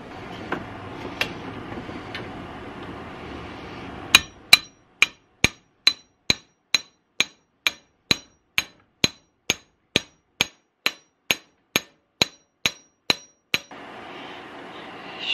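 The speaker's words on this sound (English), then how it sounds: "But you hammer it" Steady hammer blows strike a part on a workbench while a DIY safety shut-off switch is being fitted, about twenty sharp, evenly spaced metallic knocks ringing out loud and close after a few scattered taps.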